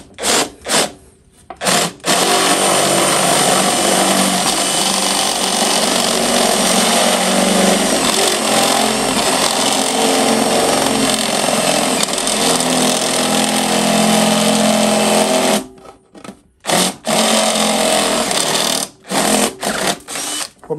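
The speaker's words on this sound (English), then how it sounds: "the case is flexing as we're drilling" A power drill grinds steadily through a flexing plastic control box case for a Record Power CL4 lathe, loud and close, with brief stops and restarts at the start and end.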